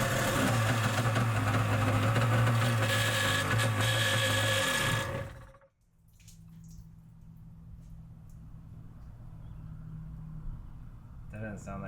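A Yamaha Superjet stand-up jetski engine is fuel-primed and tried, running loud and rough with a steady drone for about five seconds before cutting out abruptly, leaving a quiet low rumble.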